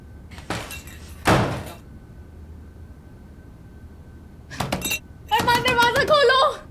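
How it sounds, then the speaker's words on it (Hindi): Someone bangs on an apartment door, with two heavy thumps followed after a quiet pause by quicker knocks. A raised voice shouts near the end. "अरमान दरवाजा खोलो।"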